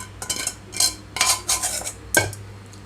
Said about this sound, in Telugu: ఇదంతా తాలింపు అంతా ఇందులో కలిపేస్తున్నాను